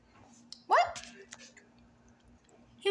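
A single short dog bark rings out near the mic, followed by a quieter scuffle and another sharp sound at the end.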